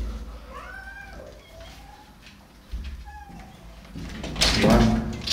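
Several cats meowing as a door is opened, rising and falling cries near and distinct, followed by a louder scraping and clatter of the door moving, with a person talking.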